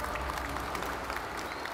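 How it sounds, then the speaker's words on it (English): Audience applause at Gamescom 2018 in Germany during a Blizzard stage presentation, a steady dense wash of clapping throughout at moderate volume. "Big round of applause"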